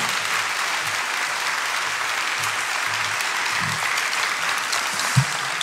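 A church congregation claps together at an afternoon service to welcome a guest pastor, steady even applause filling the room at moderate level without voices.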